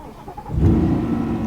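A 2025 Corvette 2LT Z51 fires up by push button: a quiet moment, then a sudden deep engine catch with a brief rev that settles into a rumbling idle nearby.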